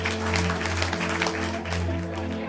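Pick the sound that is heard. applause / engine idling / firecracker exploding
applause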